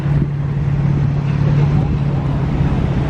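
A Ferrari Enzo supercar rumbles past at low speed with a steady engine drone, accompanied by wind buffeting on the microphone and voices talking nearby.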